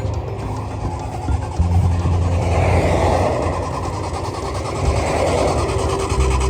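A Jaguar E-Type Low Drag engine idles steadily after restarting on fuel once it had run out, a loud, continuous mechanical rumble with a slight rise partway through and no talk.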